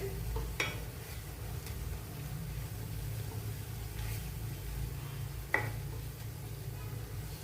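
Onion frying with tomato puree and ginger garlic paste, a low steady sizzle under a constant background hum, with a few scraping stirs of a spoon in the pan, moderate and close, no voices.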